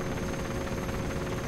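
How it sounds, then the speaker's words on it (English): A helicopter in the video game Operation Flashpoint: Dragon Rising, its rotor thumping in a loud, steady, close drone with no talking. "There's an extraction helicopter in front of us."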